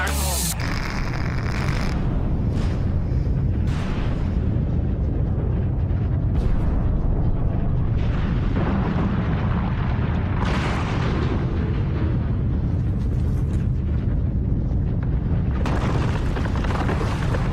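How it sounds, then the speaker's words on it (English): Production blasting charge, the last of a series, going off as a deep, sustained rumbling boom that rolls on and fills the scene for many seconds, with debris-like bursts and crackles scattered through it. "Today we have the last blast of our production blasting."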